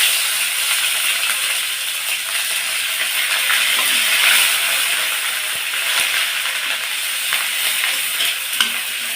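Onion paste frying in hot oil left from frying rohu fish for a Bengali kalia, a steady loud sizzle and hiss with occasional small pops and stirring, no talking.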